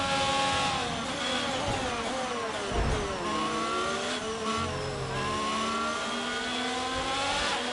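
A Ferrari Formula 1 car in the F1 22 racing game, its high-pitched engine screaming and shifting steadily with pitch sweeps as it races, loud and continuous without speech.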